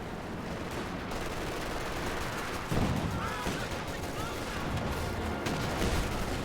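Anti-tank gun firing in Company of Heroes 2 against an OKW Panzer IV, a continuous rumble of battle broken by a loud, sharp report near the three-second mark and a smaller one later.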